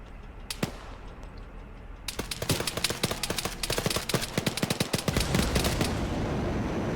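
Sustained automatic gunfire in Arma 3 during an insurgent operation around an ammo cache: a few isolated shots, then dense, rapid bursts of rifle and machine-gun fire overlapping loudly for several seconds before easing into a steady roar.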